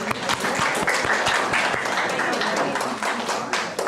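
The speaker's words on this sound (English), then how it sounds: "which totals manual applause." A poetry slam audience applauds after the judges' scores are read, a dense, loud patter of clapping with some sharper individual claps standing out, sustained for the whole stretch.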